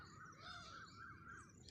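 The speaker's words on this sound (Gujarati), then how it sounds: "અને પંખીડા બોલે હો." A crow caws in a steady series of harsh calls while other birds twitter faintly around a village farm field, all fairly quiet and distant.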